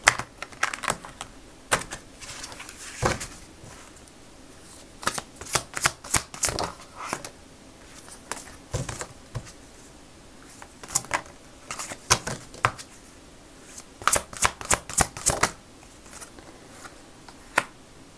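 Oracle and tarot cards, including a dragon oracle deck, are shuffled close up in repeated crisp riffling bursts separated by short pauses, with no talking.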